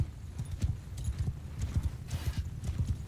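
Horses gallop in a rapid, rolling clip-clop of hooves during a battle in Mount & Blade II: Bannerlord, with a brief whinny and steady hoofbeats throughout.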